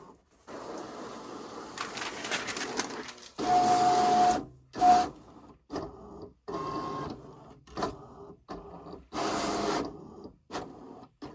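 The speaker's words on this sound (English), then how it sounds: "One of the things I love about the Explorer 5 series machines is that once you press the play button, it'll automatically start cutting right after." A Cricut Explore cutting machine slicing printable holographic iron-on on its mat, whirring motor bursts and carriage movements starting and stopping in short runs, close and fairly loud, with no speech.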